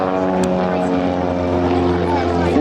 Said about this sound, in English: Now both aircraft pull up for the opposition half Cuban 8